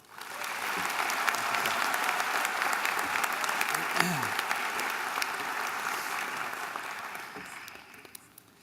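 A college commencement audience applauds a visiting speaker at Davis and Elkins College, a loud sustained wash of clapping that swells quickly and then tapers off near the end, with a voice briefly heard partway through.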